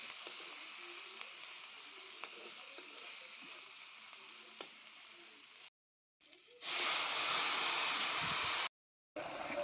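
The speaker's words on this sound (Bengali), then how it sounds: "অল্প তেল দিয়েছি, দিয়ে দিলাম কালো জিরে, কাঁচা লঙ্কার একটু রসুন থেতো করাটা। তো এটাকে খুব ভালো করে ভেজে" Black cumin, green chilli and crushed garlic frying in a little oil: a continuous faint sizzle that cuts out briefly, then returns louder and hissier.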